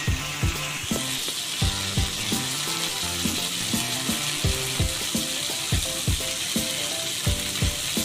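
Green chillies fry in hot oil with a dense, continuous sizzle, close and fairly loud, punctuated by regular rhythmic clicks and taps of a utensil against the pan.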